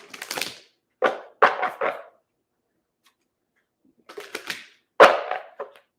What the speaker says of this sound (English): for now I'm just shuffling the cards